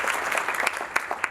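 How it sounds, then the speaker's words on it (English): Audience applause for hotel staff at an annual meeting and membership banquet, a steady wash of many hands clapping together, loud and close, with a few sharper individual claps standing out. "a round of applause for them for all that they did to make this thing"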